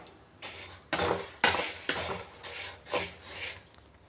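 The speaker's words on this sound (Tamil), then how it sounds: "ஒரு டம்ளர் வந்து பார்லி, அதையும் நல்லா கொஞ்சம் வறுத்து எடுத்துப்போம்." Barley being dry roasted in a pan, a rhythmic series of scraping, rattling strokes as a metal spoon stirs the grains against the pan, close and without talk.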